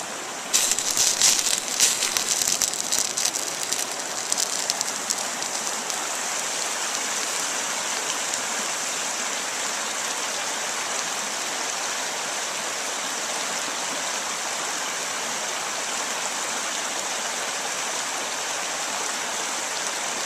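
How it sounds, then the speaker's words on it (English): Water poured from a canteen to simulate rain makes a steady, close splashing and trickling hiss for about twenty seconds, a little louder and more spattery at the start. "take a little bit of water out of my canteen and try to simulate some rain"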